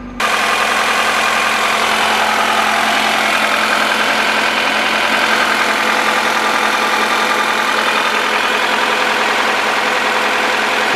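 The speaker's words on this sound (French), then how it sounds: "on va laisser le moteur monter en température jusqu'à ce que les ventilos se déclenchent" A Honda Accord engine idles steadily and loudly at close range while warming up, its cooling fans not yet running, a constant rumbling hum with no voices over it.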